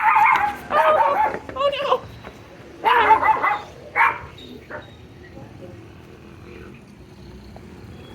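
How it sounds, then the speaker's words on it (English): A guard dog in the Philippines gives several close, loud yips and barks in two bursts, with someone speaking softly to it in between; the barking fades to quiet ambience near the end. "You're a guard dog."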